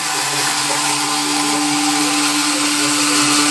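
A GIGO gyroscope toy robot running, giving a loud, steady whirring motor drone with a constant hum that holds without pause from start to finish.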